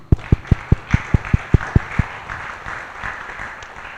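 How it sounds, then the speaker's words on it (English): Audience applause at the Indonesia Sea Turtle Symposium, starting as about ten loud, evenly spaced claps from a nearby pair of hands, then thinning into softer, scattered clapping from a few people. "a warm applause to all of us"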